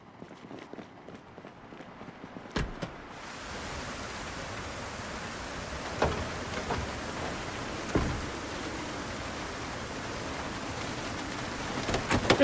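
Heavy rain in Project Zomboid during a tropical-storm-like downpour, a steady broadband hiss that swells in after a few seconds and holds loud and constant, with a few sharp thumps and cracks breaking through.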